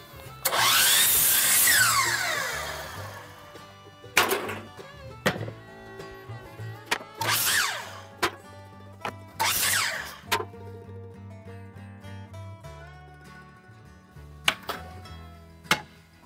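Power saw cutting pallet wood shingles, squaring the end and then cutting to length: a loud high whine for the first cut, then several shorter sharp bursts spaced apart with quieter gaps between.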